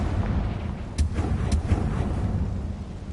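Fiery Confringo spell blasts from the Hogwarts Legacy video game, a dense roaring rumble with two sharp cracking bursts about half a second apart amid continuous loud explosive noise.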